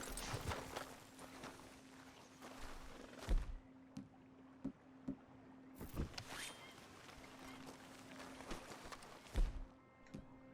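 Oars dipping and splashing as a small boat is rowed in the video game Red Dead Redemption 2, irregular soft strokes and knocks over a steady low hum, fairly quiet and close.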